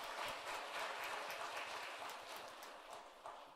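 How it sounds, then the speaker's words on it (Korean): A church congregation at a Korean worship service applauds with many hands, making a soft, continuous patter of claps heard from a distance that fades slightly toward the end. "우리 박수로 격려하겠습니다."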